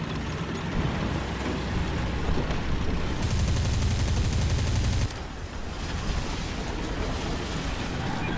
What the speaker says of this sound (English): That gun has a really high rate of fire.